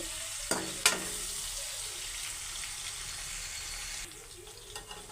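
Small dried fish frying lightly in oil, a steady close sizzle with a couple of sharp utensil clicks early on, the hiss easing slightly near the end.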